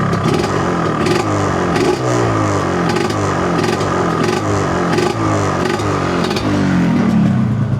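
A Yamaha 125ZR motorcycle engine running close by, a loud, steady two-stroke idle with a regular pulsing beat and rattling clatter.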